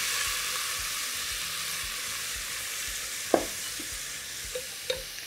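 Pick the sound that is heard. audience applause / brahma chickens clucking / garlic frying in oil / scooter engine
garlic frying in oil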